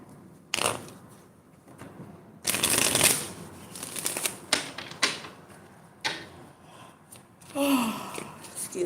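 Playing cards are shuffled and drawn in a reading session, with sharp riffling bursts and flicks followed by softer slides and taps of single cards, close and clear with no talking.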